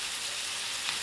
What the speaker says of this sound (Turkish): Tavuklar pişene kadar ilk önce tavukları atıyoruz.